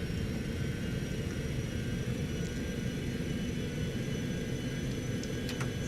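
A Citation X business jet takes off under full thrust at Renton Municipal airport, heard as a steady, dense, loud engine roar with a deep rumble and a faint high whine that holds unchanged throughout.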